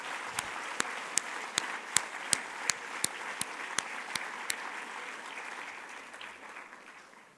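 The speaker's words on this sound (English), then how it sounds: "Let's all give a big round of applause to our children" An audience applauds children at a school annual day with soft, steady clapping. A few sharp, distinct claps stand out near the start before the sound gradually fades.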